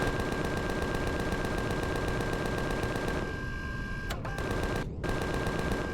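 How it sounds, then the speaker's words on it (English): Rapid automatic gunfire in Empyrion Galactic Survival, shooting at an alien insect: a steady stream of fast, even shots for about three seconds, then a looser stretch broken by a couple of short gaps, with no talk over it. "just shot an alien insect"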